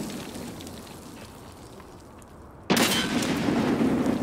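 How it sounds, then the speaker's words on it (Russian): A grenade explosion in Escape from Tarkov lands as one sudden loud broadband blast partway through, after a quiet, rain-like background hiss, and the roar sustains to the end. "Граната."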